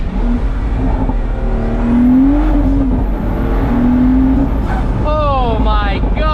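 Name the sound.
Pagani Huayra AMG V12 engine roof scoop intake noise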